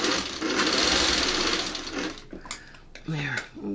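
A sewing machine runs steadily for about two seconds while stitching thread along a marked line, then goes quiet, with only brief clicks and short bits of close speech afterward.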